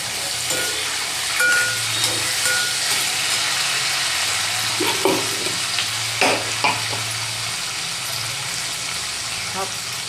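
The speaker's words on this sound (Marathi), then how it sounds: "खेकडी परतून झाला मग कढीपत्ता घालतो." Spiny gourd being stir-fried with curry leaves in a pan, giving a steady sizzle with intermittent scraping and stirring clatter, close up under a low background hum.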